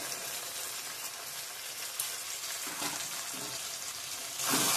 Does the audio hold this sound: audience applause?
no